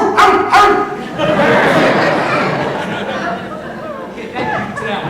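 A man imitates a dog's barking with a few loud, close woof-like yelps at the start, then carries on in a raised, busy vocal stretch with lighter sounds near the end, alongside laughter and chatter from others.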